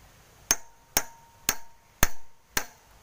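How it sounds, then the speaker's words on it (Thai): Five sharp hammer strikes land on a metal part during the build of a motorized bicycle, evenly spaced about half a second apart, each ringing briefly before fading. "ตอกนิดนึงครับ"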